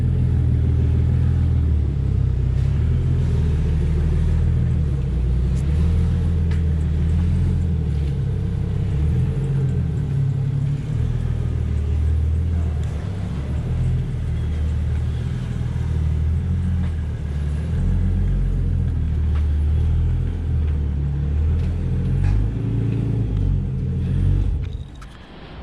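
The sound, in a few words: car engine running in a workshop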